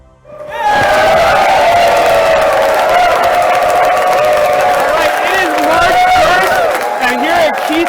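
Office staff at Keysight Oscilloscopes headquarters in Colorado Springs break into loud group cheering and whooping, starting after a short quiet moment and holding steady as a lively crowd roar with shouts rising above it.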